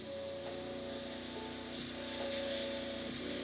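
An airbrush set to about 28 psi hisses steadily and close as it sprays Tamiya Flat Yellow paint, with no one speaking.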